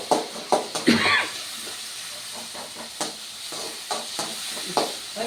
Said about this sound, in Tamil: இதெல்லாம் நல்லா எண்ணெயிலே வதங்கிட்டு